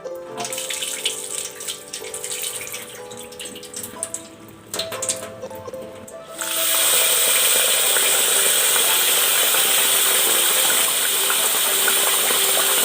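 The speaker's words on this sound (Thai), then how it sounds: "น้ำก็จะใส่แล้วล่ะค่ะ" Water gushes steadily into a pot of beans for about the second half, loud and continuous, after a stretch of quieter clinks and handling sounds.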